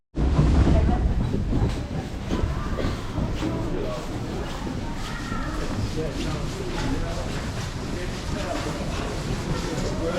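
Palm Springs Aerial Tramway car docking at its snowy mountain station, giving a steady, close mechanical rumble with rattling and clattering throughout, and voices heard faintly beneath.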